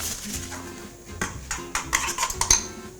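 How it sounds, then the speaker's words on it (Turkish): Spoon stirring finely chopped herbs into yogurt in a bowl, close-up scraping and clinking against the bowl in quick irregular strokes, growing busier and sharper in the second half, with no talking. "Yoğurdum içerisine karıştırıyorum."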